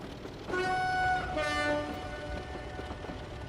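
A Class 27 diesel locomotive in Train Simulator 2021 on the Stainmore route sounds its two-tone horn, a loud sustained blast shifting pitch midway, over a steady rumbling engine background.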